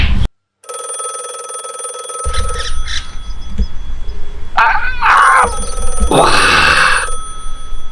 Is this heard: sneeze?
no